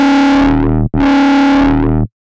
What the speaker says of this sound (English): We want to distort the main harmonic of the sound, which is this one.